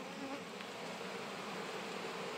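Honey bees buzz inside an open hive during an inspection for chalkbrood, a dense, steady, continuous hum of many wings, close and even, with no talking.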